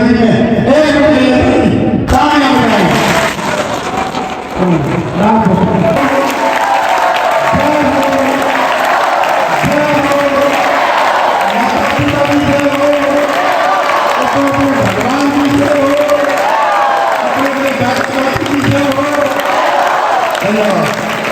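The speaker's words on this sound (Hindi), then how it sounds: "जाम्बू जी जल्दी में 1 मिनट तालियां बजाएं।" A crowd at an environmental awareness rally in Khajuwala claps steadily for about a minute, a loud, continuous wash of applause mixed with voices.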